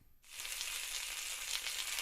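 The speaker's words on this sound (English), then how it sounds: "You hear that sizzling?" Bacon sizzles in a frying pan, a dense, bright crackling hiss that starts abruptly after a moment of near silence and stays steady and close.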